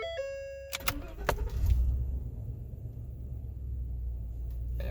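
A 2016 Ford F-350 crew cab dually with a 6.2L engine starts up after a brief jangle of keys, cranking into a low rumble that settles into a quiet, steady idle.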